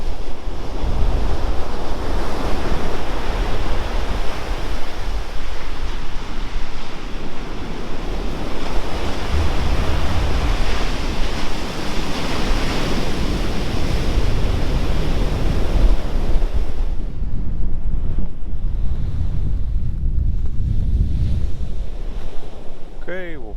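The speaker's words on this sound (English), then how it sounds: "Listen to the waves." Pacific Ocean surf washing steadily onto the rocky shore at Pacific Grove along 17-Mile Drive near Pebble Beach, a loud continuous roar with wind buffeting the microphone.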